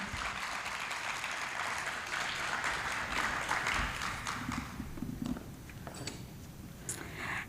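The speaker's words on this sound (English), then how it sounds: "How about a round of applause for Cimarron?" An audience at a school poetry and prose event applauds a team, a fairly quiet patter of clapping that swells and then thins toward the end.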